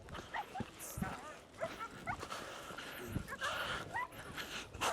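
A dog barks and yips in short bursts at mid distance, with whimpers and scattered noise in between and a person talking over parts of it.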